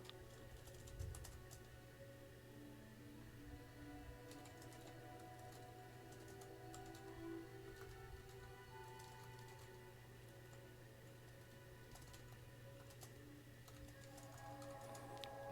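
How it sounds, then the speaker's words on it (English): Light typing on a computer keyboard, heard as faint scattered key clicks over a steady electrical hum in a quiet room while a game is being built in DragonRuby Game Toolkit. "Typing."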